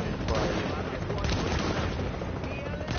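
Dense gunfire in The Division video game, a sustained roar of shots and booms for the whole stretch, loud and close with no clear pauses.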